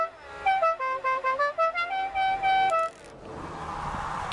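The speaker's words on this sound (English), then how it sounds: "And of course, we got to try out the horns." A 1995 Dodge Ram 1500 4WD SLT pickup sounds its horn in a run of about ten short, evenly spaced honks, loud and close, with a steady engine idle continuing underneath after the last one.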